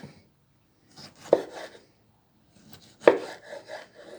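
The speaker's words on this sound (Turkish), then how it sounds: "Bu domatesi doğrayacaksınız" Two sharp knife cuts through tomatoes against a board, spaced apart, with soft scraping and rustling between them, close and fairly quiet.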